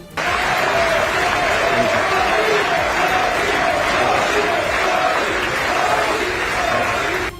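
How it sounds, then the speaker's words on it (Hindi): Sustained applause and crowd chanting fill the US Congress for Indian Prime Minister Narendra Modi, a dense, steady roar of clapping and voices lasting the whole stretch without pause. "अमेरिका की संसद कभी तालियों की तड़तड़ाहट से तो कभी मोदी मोदी के नारों से गूंजती रही।"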